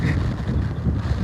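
Strong wind gusting during heavy rain outdoors, a loud continuous low rumble buffeting the microphone throughout with no speech.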